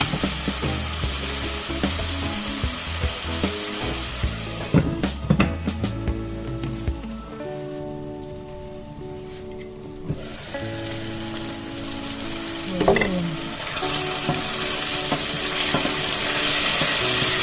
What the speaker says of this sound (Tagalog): Yung nagmamantika na yung kamatis.